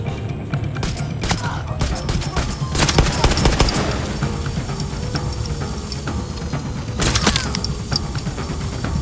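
Machine gun fire in the video game Far Cry 6 crackles in dense, rapid bursts, with heavier volleys near the start and again near the end over a constant rumble of battle noise.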